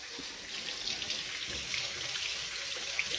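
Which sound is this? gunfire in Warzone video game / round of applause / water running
water running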